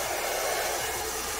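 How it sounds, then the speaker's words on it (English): A Revlon One Step dryer brush blows steadily and loudly, a constant rushing whoosh of air that holds at an even level without pause. "I'm going to use the hair dryer."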